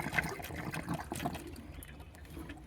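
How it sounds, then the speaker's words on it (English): Quiet burbling and trickling of water spilling from the open valve port of a Mavien NPE series tankless water heater during check valve replacement, soft irregular gurgles close by with small clicks. "You hear all that water burbling."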